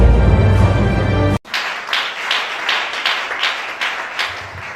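A church congregation applauding and cheering during a teaching service, a dense burst of rhythmic clapping that rises in waves, following an abrupt cut from louder sound.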